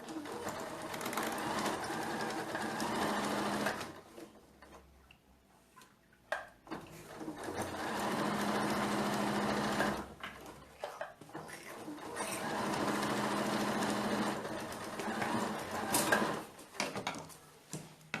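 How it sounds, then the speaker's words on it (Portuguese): A sewing machine stitching the fabric lining of a handmade bag, running in three long steady bursts of rapid mechanical whirring with short pauses between them, fairly close and even in level. "E vamos costurar ele com um pé de máquina"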